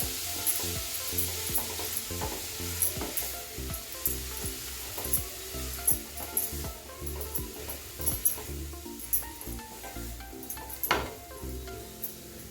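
Carrot pieces sautéed in a pan, a continuous sizzle broken by repeated scraping and stirring knocks of a spatula at an irregular rhythm, close and moderately loud, with no voices.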